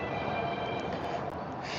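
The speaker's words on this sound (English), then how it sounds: "I just spotted an Amtrak heading southbound." An Amtrak train heading southbound past Secaucus, New Jersey, a steady rumbling roll of rail cars at moderate distance, continuous and alone with no talking.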